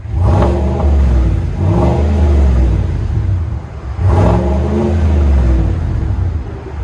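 A 2022 Chevy Silverado RST's 6.2-liter V8 with a Flowmaster Super 10 exhaust revs twice, deep throaty roars climbing and falling back to a rumbling idle, loud and close.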